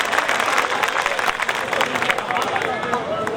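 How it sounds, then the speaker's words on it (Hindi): Listeners at a mushaira poetry gathering clap loudly in welcome, a thick wash of applause mixed with crowd murmur and some babble that continues throughout the short stretch. "जोरदार तालियों से इस्तकबाल कीजिए।"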